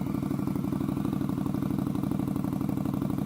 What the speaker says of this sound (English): Those Bassani exhaust sounds pretty freaking awesome.